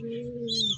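Racing pigeon, an aging former race champion, giving a low steady coo with a rising chirpy note near the end, close and moderately loud.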